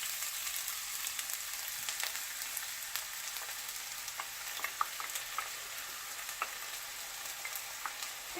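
Onions sauté in a skillet over medium heat for turkey meatloaf, giving a steady close sizzle with occasional scraping stirs and small pops, no talking.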